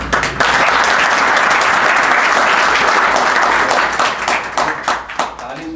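Loud, sustained audience applause fills a lecture hall at a defence academy coaching session, dense steady clapping that thins and fades near the end.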